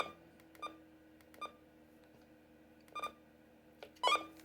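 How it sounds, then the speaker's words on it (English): A Roger beep from a President McKinley AM/SSB compact mobile CB radio, short electronic beeps repeating at irregular intervals, the last one louder and more complex, faint and close with no talking. "that noise that you guys are hearing is a Roger beep"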